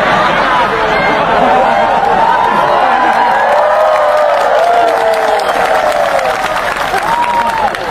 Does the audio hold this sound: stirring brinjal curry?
no